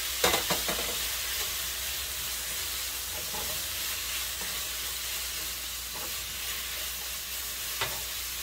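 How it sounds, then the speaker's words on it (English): Beef and garlic sauté in a hot pan with a steady, even sizzle. Stirring scrapes and clatters stand out at the start and near the end, with no talk over it. "I'm gonna saute all of that beef."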